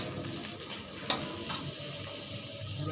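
Steady hiss of taro greens and tomato sizzling in a hot pan as a little water is added, with a sharp clink partway through and a softer one shortly after.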